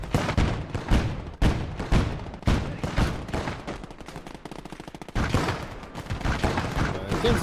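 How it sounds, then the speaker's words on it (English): Repeated bursts from an M15 in the WWII strategy game Gates of Hell: Ostfront, loud close rattling volleys in irregular rhythm with brief pauses and a sustained rapid stretch in the middle, set against ongoing battlefield noise. "Getting some good shots off with this M15."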